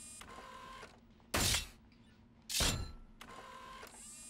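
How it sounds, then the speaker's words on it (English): A robot's ram bolt mechanism is checked. Two loud, brief mechanical whirring bursts are separated by quieter electronic hum and faint tonal beeping. "let's recheck your ram bolt mechanism."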